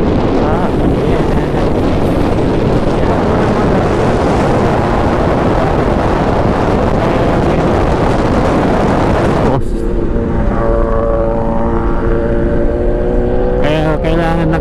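Loud, roaring wind buffets the microphone continuously while riding with a helmet visor near Tanay, Rizal, then drops away briefly, leaving engine drone and a muffled voice before the roar returns.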